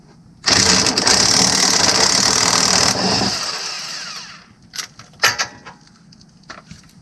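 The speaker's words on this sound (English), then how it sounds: "I'm going to use a 3/4 inch socket on my electric DeWalt impact" A DeWalt electric impact wrench with a 3/4 inch socket hammers loudly on the crankshaft bolt of a 2014 Acadia 3.6L for about two and a half seconds, then stops, leaving quieter clicks and tool handling.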